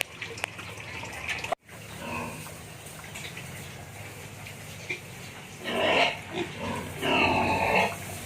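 Sows grunt and squeal in short loud bursts, with a busy farmyard backdrop and a dripping, trickling water sound in the background.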